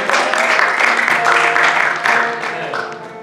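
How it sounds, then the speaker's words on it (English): A church congregation claps together during Sunday morning worship, a dense, steady wash of hand claps with faint rhythmic pulses, fairly loud and close, tapering slightly toward the end, with music tones underneath. "Everybody, will you go ahead and clap?"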